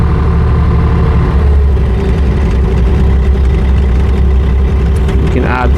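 JoyT5 JT5350 3.5-ton mini excavator running in high gear, a loud steady diesel rumble with a low throb and mechanical whine close by, rising slightly near the end.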